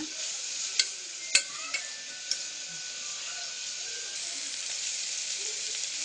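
Masala with curry leaves sautéed in a pan for rice and lentil rice: a steady, fairly quiet sizzle runs throughout, with a few sharp spoon-on-pan clinks from stirring near the start.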